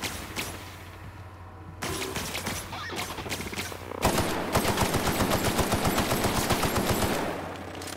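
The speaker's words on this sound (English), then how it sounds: "Assault rifle, bam." Assault rifle fire in The Outer Worlds, starting with scattered shots and then a loud, rapid automatic burst of evenly spaced rounds lasting several seconds before trailing off.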